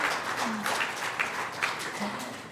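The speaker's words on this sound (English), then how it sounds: "I think the biggest round of applause goes to you" An audience at a school ceremony applauds warmly, steady clapping from many hands that swells slightly in a few spots and holds throughout.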